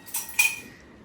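A spoon stirring food in a pot gives two quick metallic clinks close by, the second a little louder, then fades to quiet with no talk.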